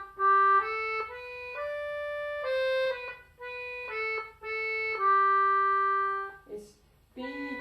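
Chordal tune on an English concertina: a steady run of sustained, bright reed chords in a flowing rhythm, close and clear, with no voices.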